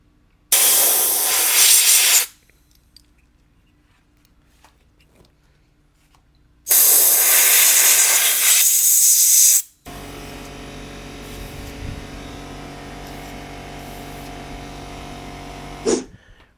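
Mass airflow sensor cleaner sprayed from an aerosol can onto the air mass sensor of a BMW E39 M5, in two loud close hissing bursts of about two and three seconds separated by quiet, followed by a lower steady background noise.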